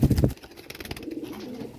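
Pigeons at a loft coo while mating, a low soft throaty coo heard up close and alone after a short louder burst at the start.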